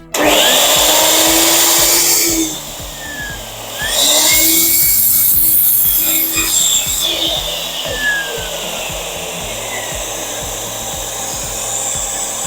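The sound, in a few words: miter saw cutting wood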